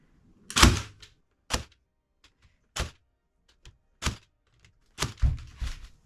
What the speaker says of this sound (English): I'm just going to hold it up on one side and just staple in a few places